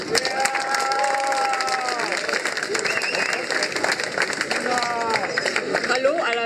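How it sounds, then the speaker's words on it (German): Audience applause and cheering at the Hanfparade, a street cannabis rally in Berlin, as a speaker is welcomed to the stage; steady crowd clapping with scattered shouts and whistles, with voices mixed in throughout. "Einen frohen, bitte, schönen Applaus."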